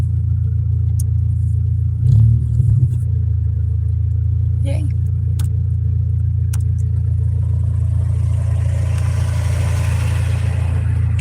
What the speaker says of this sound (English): I'm gonna have to restart the car